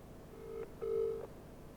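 Two faint electronic ringing tones, a short one then a longer one, like a phone ringing on a call line to an automated business banking service, quiet and close.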